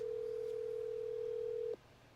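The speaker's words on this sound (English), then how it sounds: "let's call the guy that this bike came from," A steady telephone tone sounds during a call placed to a former owner of a 1965 Yamaha YM1 motorcycle, a single continuous pure tone that holds for nearly two seconds and then cuts off, leaving quiet room noise.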